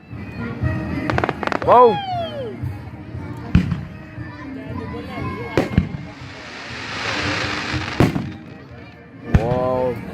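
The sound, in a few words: fireworks exploding at Morningside park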